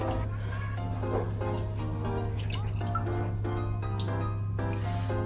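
Hot oil phase for a hair cream is poured into hot water, giving a run of wet drips and splashy liquid sounds at a steady moderate level over a low constant hum, with no talking.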